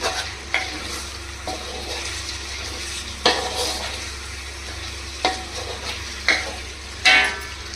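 Chili powder being stirred into kadai biryani in a pan, with faint scraping strokes and soft sizzling, a few sharper spoon knocks scattered through a steady low background hum.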